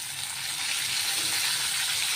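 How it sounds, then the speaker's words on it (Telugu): Ginger, green chili, chili powder and curry leaves fry in hot oil with a steady, close sizzle that holds an even level throughout, and no voices are heard. "ఇది కూడా కొంచెం పచ్చివాసన పోయేంత వరకు మనం వేయించుకుందాం."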